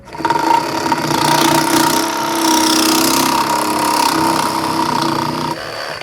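Bosch Pro GSA 12V-14 cordless reciprocating saw cutting through PVC, a loud continuous buzzing whine with a steady pitch that runs for several seconds and eases off near the end, close up, no talk.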